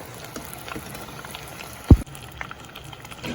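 Turkey escalope frying in oil in a pan gives a soft, steady bubbling and light crackle. There is one brief louder knock partway through, and the frying sits at moderate volume with no talk.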